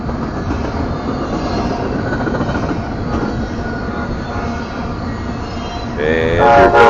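An Amtrak passenger train rolls past on a BNSF line, a loud continuous rumble of wheels and rail clatter, with squealing or horn tones rising near the end.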